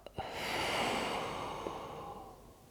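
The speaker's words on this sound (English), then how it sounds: "Breathe out." A slow yoga exhale in a toes-tucked child's pose, one long, soft breath out close to the ear, rising gently then fading, preceded by a quick sniff-like intake.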